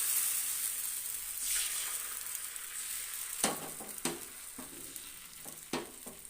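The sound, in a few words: neer dosa batter sizzling on a hot tava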